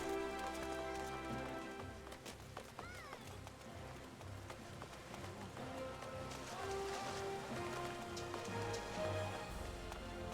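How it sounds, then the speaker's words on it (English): Rain falls in a video game as a steady, soft patter that runs throughout, mixed under game music and ambient effects. "Ooh, it's raining?"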